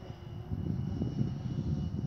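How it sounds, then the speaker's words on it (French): A small quadcopter drone flies back toward its pilot during a range and lag test, giving a steady low buzzing hum at moderate distance that holds evenly throughout with no voices. "Donc le drone revient."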